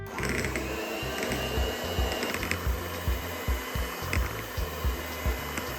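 An electric hand mixer whirs steadily while beating heavy cream and cream cheese for a tiramisu cake, a continuous close motor drone with small bumps and knocks as the beaters move around the bowl.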